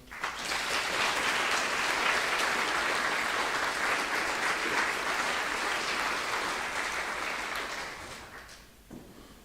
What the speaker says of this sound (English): Can we give another round of applause for Jen?